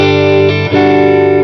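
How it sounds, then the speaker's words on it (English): Electric guitar through a Vox MV50 AC micro tube amp with a little reverb, a brief sustained chord ringing clearly with a quick change partway through. "here's naked amp only with just a splash of reverb"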